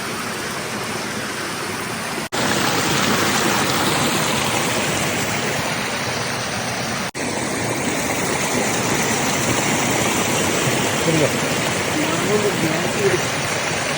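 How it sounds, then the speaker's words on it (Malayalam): Heavy monsoon rain in Maharashtra hisses and roars steadily, loud and close, with brief cuts in the sound and voices faintly talking beneath the downpour. "ഭയങ്കര മഴ അതാണ് പെരു മഴ"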